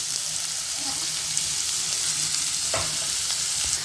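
Onion and garlic sauté in hot oil in a pan, a close, steady sizzle with a few sharp scraping stirs of a spatula breaking through near the end.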